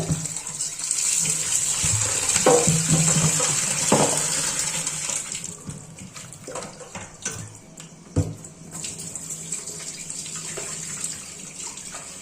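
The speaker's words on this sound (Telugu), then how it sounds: "ఇప్పుడైతే దీన్ని మనం మంచిగా వాష్ చేసుకోవాలి ఒక 2-3 టైమ్స్" Tap water gushes steadily as goat head meat is rinsed for curry, with splashing and handling noises in a sink, then the flow eases and more scattered clatter and splashes follow.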